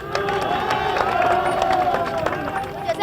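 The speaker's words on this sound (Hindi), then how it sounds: "इस वक्त भी आप देख सकते हैं काफ़ी भीड़ है यहाँ" A large crowd gathered at a protest site in Haldwani, a dense, steady murmur of many overlapping voices that fills the scene at close range, with occasional louder calls rising out of the babble.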